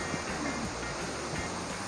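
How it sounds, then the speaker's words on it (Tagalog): Palale Falls in Malinao, Albay, with a strong flow after rain: a steady, loud, unbroken roar of falling water that fills the whole clip, with no talking. "medyo may kalakasan yung bagsak ng tubig ngayon dito sa Palalipos"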